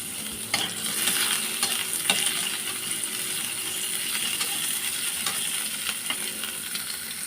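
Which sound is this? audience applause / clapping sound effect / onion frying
onion frying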